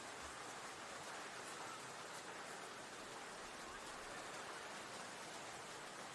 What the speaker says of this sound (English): Generally, when you get these downpours, they don't last longer than a minute or two